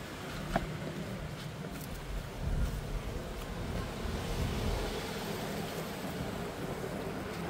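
Faint, steady outdoor wind rumble with gusty swells, low and broadband, no clear voices.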